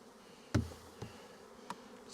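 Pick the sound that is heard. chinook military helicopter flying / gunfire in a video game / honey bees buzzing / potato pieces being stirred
honey bees buzzing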